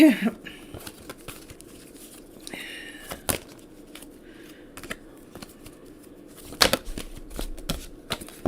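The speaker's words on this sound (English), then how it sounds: "Do the shuffle right." Tarot cards are shuffled by hand in a quiet indoor setting, giving soft, irregular papery riffles and flicks with a few sharper snaps, moderately close and fairly faint.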